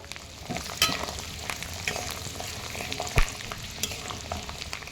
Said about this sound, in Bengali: এর মধ্যে প্রথমেই দিয়ে দেব গোটা রসুনগুলো